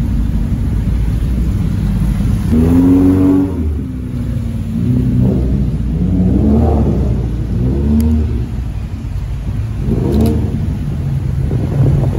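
Loud sports car engines, a Nissan 350Z and a Honda S2000, rev repeatedly nearby in pouring rain, pitch rising and falling in several strong bursts over a constant heavy rumble.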